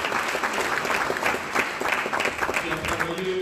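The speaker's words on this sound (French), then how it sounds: "Est-ce qu'on peut l'applaudir?" An audience applauds at a Cameroonian chiefdoms parade, dense sustained clapping with some crowd voices mixed in.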